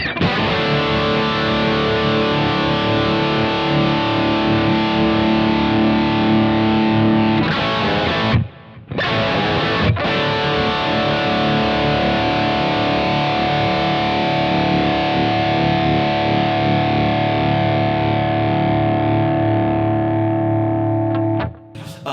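A heavily overdriven guitar amp, set on 9 and pushed by a Klon pedal, rings out thick, saturated distorted chords, sustained and loud, with a brief cutoff partway before the roar resumes.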